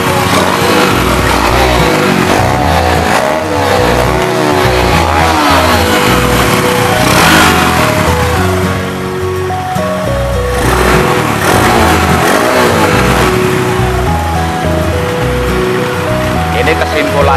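A motorcycle engine fitted with a Karisma crankshaft revs repeatedly, loud and close, its pitch sweeping up and down in rising and falling bursts with a brief dip to idle midway.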